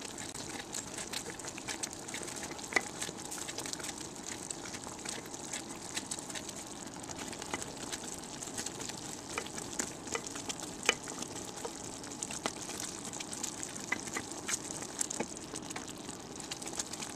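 Fudge mixture boils steadily in a pot, a continuous fine bubbling sizzle with scattered small pops, close and even for the whole stretch with no talk.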